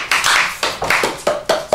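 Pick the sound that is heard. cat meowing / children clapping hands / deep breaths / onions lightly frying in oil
children clapping hands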